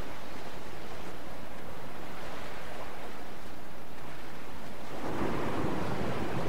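Ocean waves wash steadily onto a beach in the game Dear Esther, a continuous windy surf roar that swells into a louder breaking wave near the end.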